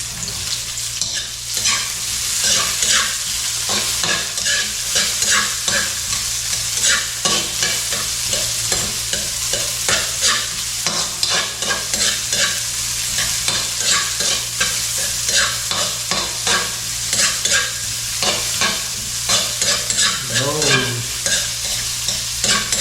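Onions fry in a hot pan while a utensil stirs them briskly, a continuous sizzle broken by rapid, rhythmic scraping strokes that carry on for over twenty seconds.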